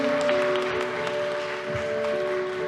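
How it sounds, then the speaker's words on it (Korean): A church congregation applauds during a Korean Sunday worship service, a steady wash of clapping over sustained instrumental tones lasting the whole moment. "우리 큰 박수로 격려하겠습니다"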